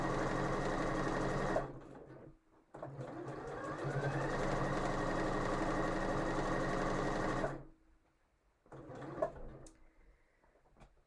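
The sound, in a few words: sewing machine stitching a seam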